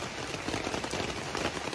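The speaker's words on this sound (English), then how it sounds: "it's raining" Steady rain patters on a tent on the Appalachian Trail near Peters Mountain, a dense, even hiss of drops close overhead with no voices.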